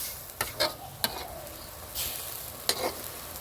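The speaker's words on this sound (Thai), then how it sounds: "เวลาที่เรากลับด้านปลาดุกนะครับ ก็ค่อย ๆกลับนะครับ" A utensil gently turns catfish pieces in a simmering sour bamboo shoot curry, giving a few soft scrapes and light knocks over a low bubbling, sizzling bed.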